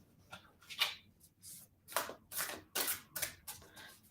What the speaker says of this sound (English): I'm going to just shuffle that back in.